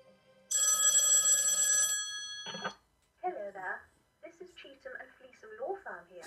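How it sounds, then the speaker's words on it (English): An old-style telephone bell in the Spooky Manor video game rings loudly for over a second with a trilling clang, then a brief second burst, followed by a voice talking. "Phone's ringing again."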